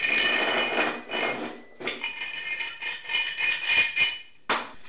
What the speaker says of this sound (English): we're going to install the thrust bearings on the rod. And then this is the outer thrust bearing